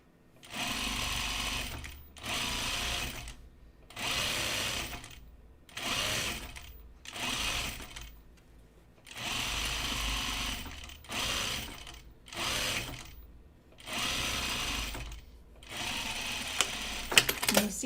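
A sewing machine stitches half-inch seams on a blazer in rapid bursts: roughly ten runs of a second or so each, separated by short pauses, close and clear with no one talking.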